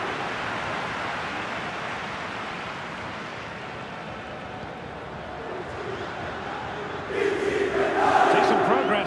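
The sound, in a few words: stadium crowd in FC 24 video game match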